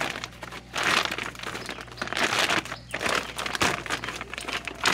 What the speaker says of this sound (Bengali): এইভাবে করে মুড়িয়ে মুড়িয়ে সুন্দর করে একটা গ্রো ব্যাগ তৈরি করতে হবে।